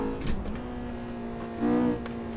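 A Honda S2K engine drones steadily on a timed racing lap, with a brief rise in revs near the start and a louder surge of acceleration toward the end, heard fairly close.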